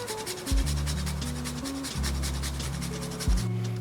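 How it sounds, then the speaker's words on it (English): Nutmeg grated on a microplane over a Greek pastitsio béchamel, giving a steady close rubbing rasp with quick repeated strokes that run continuously under a low background hum. "Got my microplane and I'm just gonna grate some nutmeg in there."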